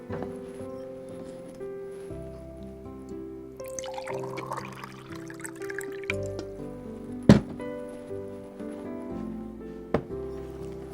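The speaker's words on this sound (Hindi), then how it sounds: "पानी से आटा गूंथेंगे हम।" Water poured into flour in a kitchen to knead paratha dough, heard as a soft pouring trickle with a few drips over steady background music.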